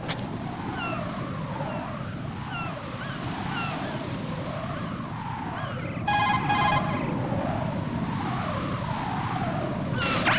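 Cell phone ringing in the video game Metal Gear Solid 2, a brief electronic burst of repeated tones cutting in mid-clip over a constant wash of wind and rolling water ambience.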